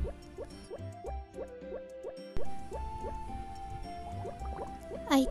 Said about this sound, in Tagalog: lagyan na lang natin ng tubig ang water can